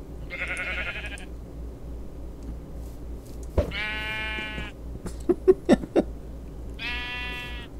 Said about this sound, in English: I think I've only seen one natural pink sheep since playing this game.